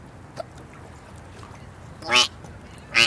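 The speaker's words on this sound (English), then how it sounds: "A beautiful mallard, huh?" A mallard duck quacks twice, loud and close, each call a short harsh burst, with faint sounds between the calls and no talking.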